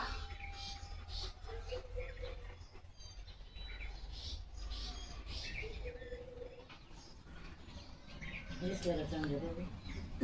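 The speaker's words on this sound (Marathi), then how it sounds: "ह्या बघा आमच्या चिमण्या" Sparrows chirp in scattered bursts against a low background rumble, with a louder flurry of chirps near the end.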